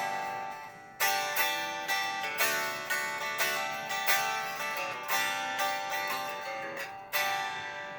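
An unplugged Westcreek Cerberus electric guitar is strummed acoustically on old strings, giving thin, bright chord strokes in a steady rhythm that ring and sustain between hits, close and with no talking.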